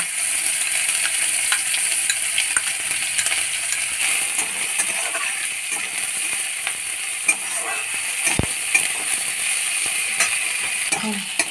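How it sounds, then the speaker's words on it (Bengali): Onions frying in a pan for Bengali pea-filled chops, a steady loud sizzle throughout with occasional stirring clicks and scrapes, no talking. "এবারে পেঁয়াজটা দিয়ে দিচ্ছি"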